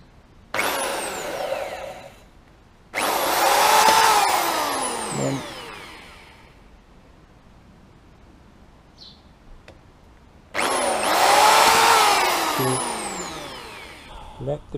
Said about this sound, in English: So I'm going to use this small little drill.